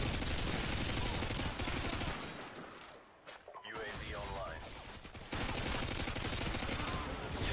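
Rapid gunfire crackles densely in Call of Duty: Modern Warfare 2 multiplayer. A flashbang-like burst cuts the sound to a muffled lull with a whine in the middle, and then loud firing resumes.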